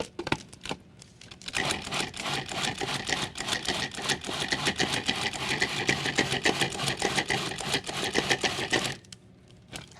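A food processor whirs through raw food in a continuous buzzing, chopping run of about seven seconds. It starts and stops abruptly with brief quieter gaps before and after, close and steady, with no talking.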